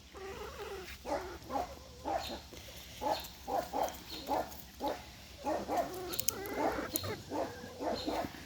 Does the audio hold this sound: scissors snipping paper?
no